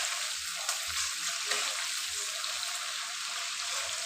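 Chicken karahi frying steadily in the pan as whole tomatoes are stirred in, a continuous close sizzle with a few soft stirring knocks underneath.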